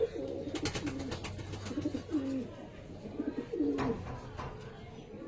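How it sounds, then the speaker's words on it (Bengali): A female pigeon coos close by, giving a few soft, low, rolling calls spaced across the moment, with quiet background noise and faint rustling between them. "একটা মাদা পায়রা আপনাদেরকে দেখাচ্ছি"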